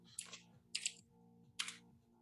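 A computer keyboard is typed on in three short, crisp bursts of key clicks separated by pauses, quiet and close, with no talk.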